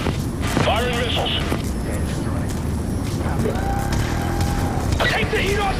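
Missiles launching from an aircraft in Call of Duty Black Ops 2 make a sustained heavy roar and whooshing rumble, loud and unbroken, with game voices and electronic beeps mixed in.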